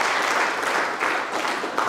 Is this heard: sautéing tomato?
no